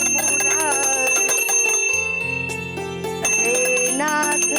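A temple bell rings during Hindu prayer to Krishna at home, loud sustained tones that continue throughout without talk.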